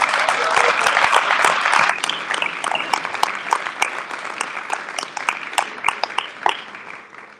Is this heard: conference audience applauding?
yes